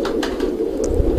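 Iranian pigeon cooing close by, a soft, low, throaty coo repeating in a short burst.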